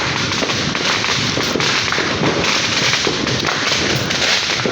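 New Year fireworks and firecrackers going off outdoors, a dense, loud barrage of overlapping pops and crackles with occasional heavier bangs, continuous throughout without talk.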